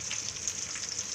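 Green chillies fry in a pan for bitter gourd pickle, giving off a steady, close hiss of sizzling oil with no talking.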